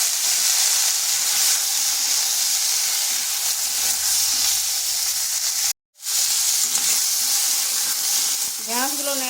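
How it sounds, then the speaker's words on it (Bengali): Cut okra sizzles loudly in hot oil in a pan just after frying potatoes, a dense continuous hiss that cuts out briefly and resumes, with no voices. "ওই তেলের মধ্যেই দিয়ে দিচ্ছি কেটে রাখা ঢেঁড়সগুলো।"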